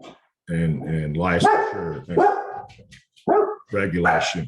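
Household dogs bark in short bursts behind a person speaking about assisted living care, the yaps breaking through between phrases close to the microphone.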